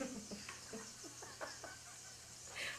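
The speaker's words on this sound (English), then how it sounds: "Oh, I hear some sizzle over there." A soft, steady sizzle of carrots frying in a pan for glazed carrots, with a few light clicks and taps of cooking utensils over the hiss.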